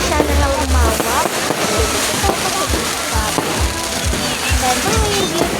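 Fireworks at a town plaza celebration in December, with repeated low booms and crackling bursts going off near the listener, layered over background chatter and crowd noise.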